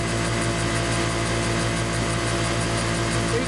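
An asymmetrically modified Imperial DC motor spinning the crankshaft of a 10 kW generator at around 3,400 RPM, giving a loud, constant mechanical hum and whir with steady tonal drone, close and uninterrupted.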